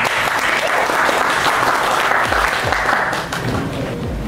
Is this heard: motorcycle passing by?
no